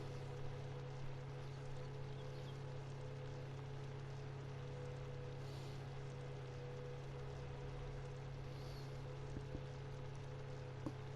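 Steady low engine hum of a tractor with a plough in a farming video game, a constant drone running evenly and alone throughout.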